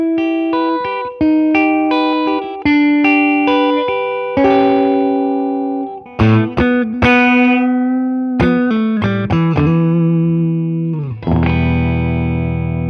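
A 1982 Gibson ES-335 electric guitar plays a sustained, singing melodic line with clear held notes and light effects, loud and close with no talking.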